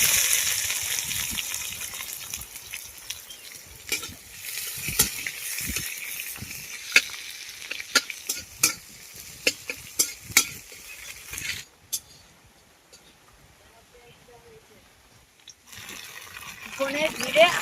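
Bay leaf, black cumin and chopped onion fry in oil for a thin koi fish curry, crackling and sizzling with irregular clattering stirs and utensil knocks, briefly quieting midway before rising again, with a person talking over much of it.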